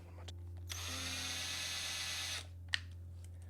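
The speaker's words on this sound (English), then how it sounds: "I'll just use my drill." A small electric drill bores little holes into a wooden craft base, a single whirring burst of about two seconds that rises in pitch, framed by faint clicks and a steady low hum.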